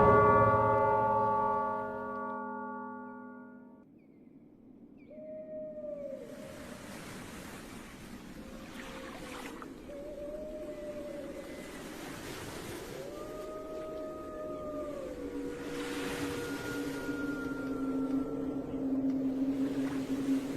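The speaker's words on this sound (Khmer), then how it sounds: "ស្នូររលកបោកផ្ទប់ជើងសសរផ្ទះឈើសង់រាប់តាមមាត់ទន្លេ" Waves from a rising river lap against the pillars of a wooden stilt house in the dead of night. The water makes a continuous hushing wash, with long eerie tonal howls drifting over it.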